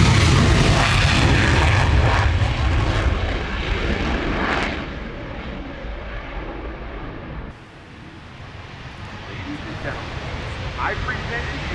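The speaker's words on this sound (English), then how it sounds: "I present to you the United States Air Force F-22." A United States Air Force F-22 jet roars past at the Royal International Air Tattoo airshow, a loud broad rumble that slowly fades into the distance, with a commentator talking over it.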